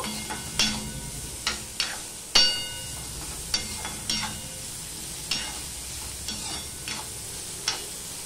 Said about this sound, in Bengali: মাঝে মাঝে ঢাকা তুলে নেড়ে দিয়ে আমি উচ্ছেগুলো ভেজে নিলাম